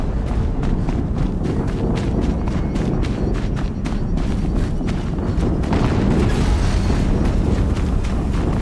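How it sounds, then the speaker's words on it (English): Loud, dense explosions and rumbling blasts from the Horizon Zero Dawn video game, a continuous booming barrage with sharp transient hits throughout, swelling stronger in the final few seconds. "Another explosion."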